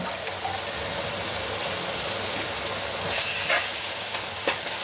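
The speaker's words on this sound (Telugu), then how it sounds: "ఇప్పుడు దీన్ని నూనెలో చక్కగా మగ్గేదాకా వేయించుకుందాం మసాలా మొత్తాన్ని" Masala paste of coriander, ginger, garlic, cinnamon and cloves fries in oil for fish pulusu, giving a steady, close hiss of sizzling with small bubbling pops throughout and no talk.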